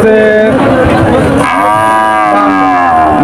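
Cattle at the Shahpur cattle market in Bangladesh, loud, drawn-out moos with a harmonic, groaning quality, one long call after another, close by against a steady background of crowd noise.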